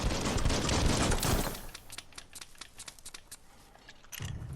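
Gunfire in the video game Biomutant: a dense, loud burst of rapid shots that thins into scattered individual cracks, then a final short burst at the end.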